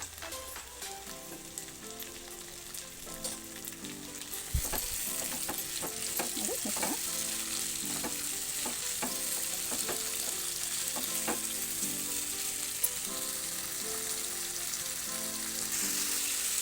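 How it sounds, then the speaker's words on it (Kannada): Tomato masala for a village-style dal chicken curry fries steadily in a pan, a continuous close sizzle with stirring scrapes and clinks throughout, no voices. "ಇವಾಗ ಎಲ್ಲವೂ ನಾವು ಚೆನ್ನಾಗಿ ಫ್ರೈ ಮಾಡಬೇಕು"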